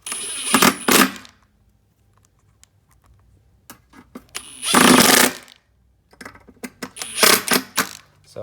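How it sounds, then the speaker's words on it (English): A power drill drives screws into the corner of a framed shower door frame, giving three loud, close whirring bursts of about a second each, separated by quiet pauses and light handling clicks. "Hold the corner together and run your screws in."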